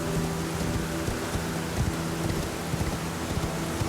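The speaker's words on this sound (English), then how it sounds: "Because the rain only started when he got here." Rain falls steadily in the video game Elden Ring, a dense, even hiss that continues without a break, with a faint low tonal drone underneath.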